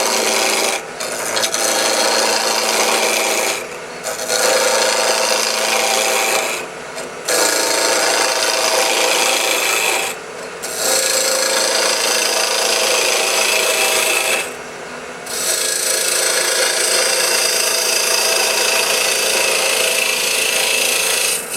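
A wood lathe spins a bottle stopper blank at about 2,000 RPM as a tool shaves it: loud, close, continuous rasping scrape in long passes, broken by a few short pauses, with no voices.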